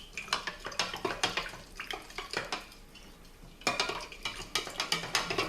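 A utensil stirring cornstarch into the sauce for braised pork chops, with a quick series of light clinks and scrapes against the pan, briefly pausing and then resuming at a steady rhythm.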